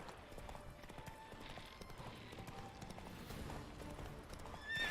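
Roach, the horse in The Witcher 3 video game, gallops with a steady, close clip-clop of hooves over a busy game soundscape, rising slightly louder near the end.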